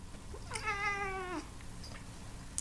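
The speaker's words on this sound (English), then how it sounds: "if I can make my cat meow right now" A pet cat gives a single clear, drawn-out meow lasting under a second against a quiet room background.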